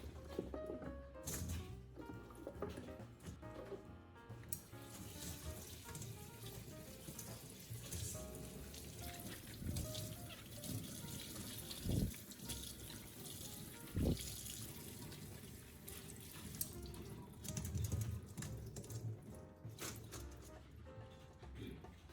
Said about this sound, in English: rinse the celery thoroughly under clean running water to remove any remaining vinegar and dirt